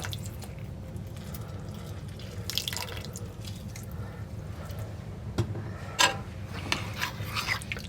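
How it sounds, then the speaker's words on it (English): A fresh lime squeezed over a pot of chicken tortilla soup, soft wet drips and squishes against a low kitchen hum, a few sharper drops near the end. "we're going to take 1 lime, and I'm going to squeeze that into our"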